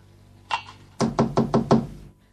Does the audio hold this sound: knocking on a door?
yes